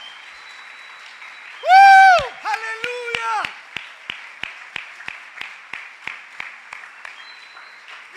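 Church congregation clapping: after a loud shouted exclamation, a long run of steady, evenly spaced rhythmic claps follows in a reverberant hall, with faint voices underneath.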